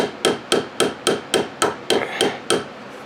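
A hammer taps a Hot Racing aftermarket axle carrier part into place on an Arrma Kraton RC truck, with nine sharp, evenly spaced metallic strikes close up, each decaying quickly.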